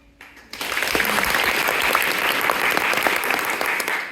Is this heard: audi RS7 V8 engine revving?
no